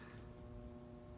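A Trane HVAC condenser unit outdoors gives off a steady electrical buzzing hum, faint and unbroken throughout the short moment.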